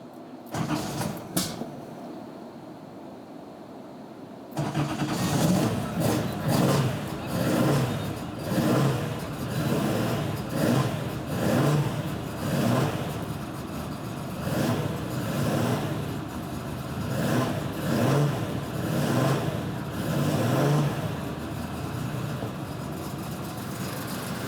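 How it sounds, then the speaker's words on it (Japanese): A Nissan Skyline Kenmeri with freshly tuned carburetors starts up after a short quiet spell, then settles into a loud, steady run with rhythmic pulses of revving throughout. "じゃあこれで一回エンジンを始動しますね"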